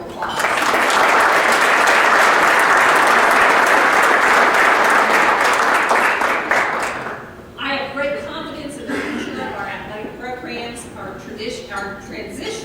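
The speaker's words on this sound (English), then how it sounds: "let's give our SAC a round of applause" Sustained, dense applause fills a sports hall of fame banquet hall for about seven seconds, then stops abruptly and a single voice begins speaking.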